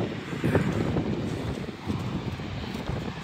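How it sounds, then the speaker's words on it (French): Strong gusting wind at the Chalaadi Glacier in Georgia buffets the microphone in a continuous, loud low roar that swells and eases without pause. "le vent de fou"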